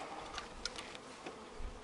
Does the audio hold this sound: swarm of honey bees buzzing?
yes